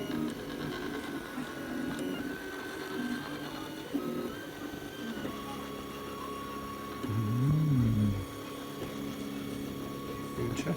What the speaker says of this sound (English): I'm guessing by the time it finishes printing the bottom layer